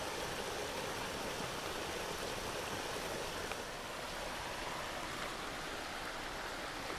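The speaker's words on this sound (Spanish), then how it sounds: "Miren qué fluidez tiene esa agua aquí, qué corriente." River current flowing through a plastic-choked stretch of river makes a continuous soft rushing wash, steady and fairly faint throughout.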